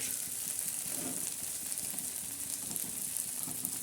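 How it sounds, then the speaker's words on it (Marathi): Chickpea dal chutney with red chilli and garlic roasts spread flat on a hot griddle, giving a soft, even sizzle that crackles faintly and steadily throughout, with no talking. "आता ही मस्तपैकी अशी चटणी आपण तव्यावर पसरून दिलेली आहे"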